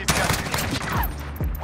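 Rapid bursts of Thunderclap M4 rifle fire in the video game Modern Warfare, loud and close, in quick repeated shots over a busy mix of other gunfire.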